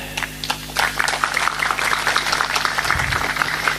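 Audience applause at a religious lecture by a Kyai, a steady wash of clapping with scattered sharper claps, moderately loud and continuous throughout, with a low hum underneath.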